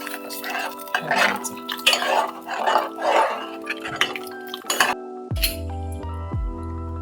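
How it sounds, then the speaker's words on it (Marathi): Sago kheer with milk is stirred in a pot, with close, repeated clinks and scrapes of a spoon against the metal and a couple of louder tonal knocks near the end. "त्याच्यामध्ये दूध टाकायचं चांगलं हलवून द्यायचं"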